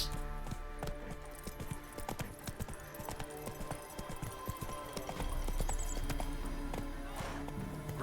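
Roach, the horse from The Witcher 3 video game, gallops with steady, rapid clip-clop hoofbeats, close and fairly loud, over a dense game soundscape.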